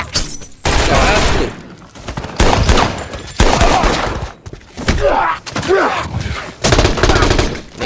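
Gunfire from a movie scene, with loud bursts of shots and rapid fusillades in repeated blasts separated by brief gaps, along with groans and thuds.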